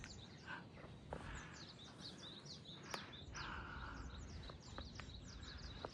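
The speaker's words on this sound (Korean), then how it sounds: "새들 지저귀는 소리도 좋고" Small birds chirp repeatedly in short, bright calls over a steady outdoor background on a spring mountainside, moderately near, with a few louder snaps and rustles.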